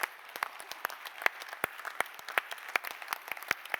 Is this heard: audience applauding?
yes